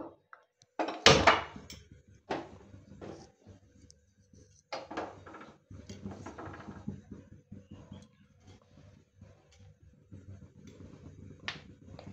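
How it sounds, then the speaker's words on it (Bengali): Steel kadai set down on a kitchen stove, a sharp metallic clank near the start followed by scattered knocks, taps and clatter of cookware with brief quiet gaps. "প্রথমে কড়াই বসিয়ে নেব।"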